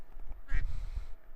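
A cartoonish duck in a video game about birds climbing hills gives a single short, nasal quack over a low background hum.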